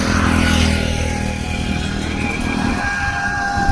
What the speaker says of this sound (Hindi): ट्रैक्टर जा रहा है